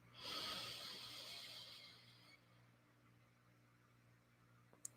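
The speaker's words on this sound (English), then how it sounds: "Big inhale through the nose." A deep inhale through the nose during a guided meditation, a breathy rushing draw that swells within the first second and fades over about two seconds, close and fairly loud against a quiet background.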